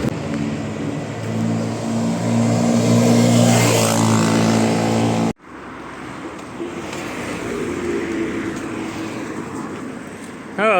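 Steady street traffic on a busy road on the edge of Grozny, heard on foot: a continuous roar of passing cars with an engine swelling and fading, a brief cut midway, then more traffic wash.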